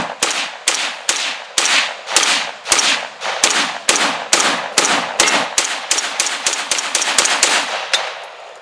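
A Chinese SKS bullpup rifle is fired from the hip in a quick string of about twenty sharp, loud shots. The pace quickens toward the end, and each report leaves a short echo.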